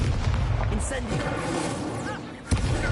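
Incendio fire spell cast in Hogwarts Legacy, a dense roaring burst of low rumbling booms and crackle that swells continuously, dips briefly, then flares again with a sharp thump near the end.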